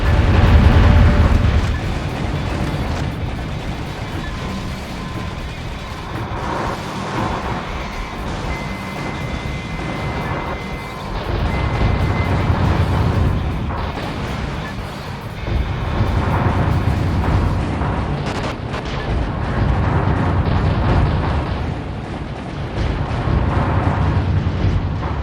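Missiles launching in a rapid volley with rolling explosions from a multi-missile launcher in a video game, a dense rumbling barrage that swells and recedes in waves across the whole stretch, no talking.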